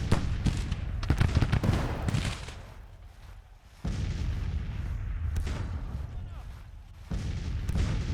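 Artillery fire at extreme range in Grand Tactician: The Civil War, a 1861 Federal campaign battle near Henry Hill, with dull booms and cracks rolling over a steady rumbling battlefield din, bursts recurring through the stretch.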